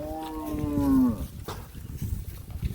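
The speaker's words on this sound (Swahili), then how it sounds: "Ng'ombe wazuri sana hawa" A Rwandan beef cow gives one loud, near moo that falls in pitch, followed by quieter outdoor background sounds from the herd.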